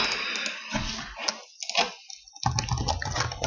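Quick bursts of computer keyboard typing as a password goes in, the clatter coming in short runs separated by brief pauses, close up and fairly loud.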